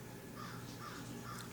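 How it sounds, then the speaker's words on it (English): Crow cawing outdoors, a few harsh calls at moderate distance over a steady hum of background noise, with no talking. "I don't know if you heard that crow"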